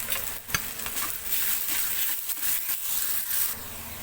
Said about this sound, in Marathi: कांद्याचा कलर आपल्याला हलकासा चेंज होईपर्यंत भाजायचा आहे